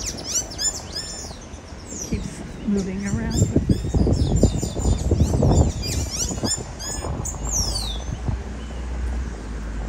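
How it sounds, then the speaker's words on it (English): Birds chirp and tweet repeatedly throughout in Barbados, several calls overlapping, with a person talking over them outdoors. "all kinds of birds making noises"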